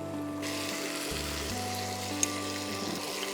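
Mutton and cabbage curry, finished with garam masala and chopped coriander, sizzles in a pan as it is stirred, a steady close frying hiss with a single clink partway through. A low hum sits underneath.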